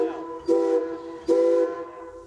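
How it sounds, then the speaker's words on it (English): Two loud, sustained blasts of a train whistle giving the reverse signal, clearly pitched and separated by a short gap. "The whistle signal for reverse is 3 short."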